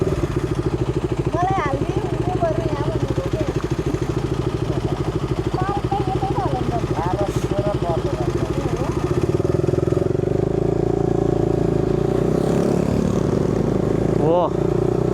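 A motorcycle engine runs steadily nearby, giving a throbbing, rhythmic drone that shifts to a heavier tone partway through, with people talking over it.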